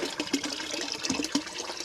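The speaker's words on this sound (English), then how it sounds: "we just pour that in the header tank, in the small tank" Central heating inhibitor being poured into the small header tank of an open vented system, a continuous close splashing and gurgling of liquid with no talk.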